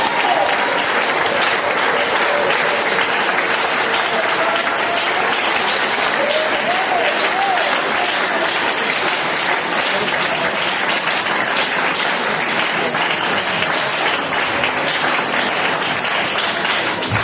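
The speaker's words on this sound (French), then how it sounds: "Donnez-moi l'acclamation au Seigneur." A church congregation at a French-language service applauds and cheers continuously and loudly for the whole stretch, a dense wash of clapping and crowd voices with no pause.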